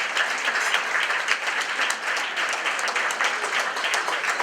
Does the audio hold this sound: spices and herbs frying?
no